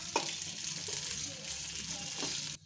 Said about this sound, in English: now I have switched on the flame, and there is already oil. So I'm adding the peelings of the ridge gourd.